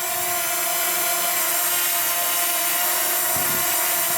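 A DJI Mavic Mini drone hovers close by with Chinese propellers in a slight breeze, giving a loud, steady, high-pitched buzzing whine with tonal hum that holds constant throughout, with no voices.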